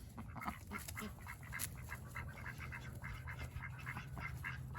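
Mating ducks give repeated quacking and agitated squawks at a moderate distance, scattered through a steady low outdoor background.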